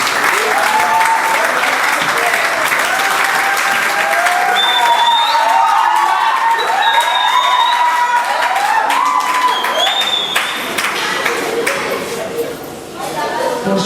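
Audience applauds and cheers to welcome a speaker, steady dense clapping with whoops and whistles, loud and sustained before easing off near the end.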